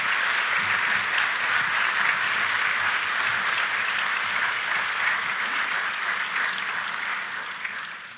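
An audience at a Honolulu police swearing-in ceremony applauds Chief Logan with sustained, dense clapping that holds steady throughout and tapers slightly at the very end.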